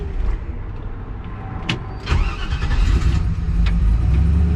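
A 1969 Chevrolet C10 pickup's engine, freshly fitted with a PCV system and idle-tuned, starts and settles into a running idle, with a couple of sharp clicks before a louder, steady low rumble takes over.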